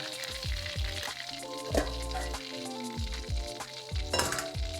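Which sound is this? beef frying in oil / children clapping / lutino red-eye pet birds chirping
beef frying in oil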